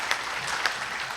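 Brief, faint audience applause at a public debate forum, a soft continuous patter of clapping hands with a few sharper claps standing out.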